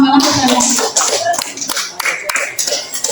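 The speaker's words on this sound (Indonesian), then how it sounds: "Tepuk tangan juga untuk Pak Imam" Scattered applause from an audience at a school gathering, a patter of hand claps mixed with voices in the room.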